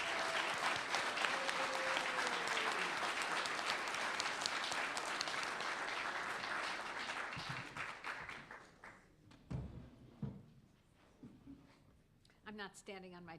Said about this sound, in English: if you would please join me in a round of applause for the 2013 Silver Gavel Award